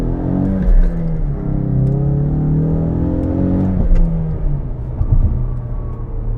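A 2020 Ford Mustang EcoBoost High Performance with its Focus RS-derived four-cylinder pulls hard, the engine note droning and rising steadily, heard loud from inside the cabin with a heavy low rumble.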